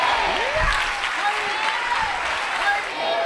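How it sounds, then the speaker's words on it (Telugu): A church congregation claps together in steady, sustained applause filling the room, with a voice calling out over it. "చప్పట్లు కొట్టలేని వాళ్ళు కూడా చప్పట్లు కొడుతున్నారు."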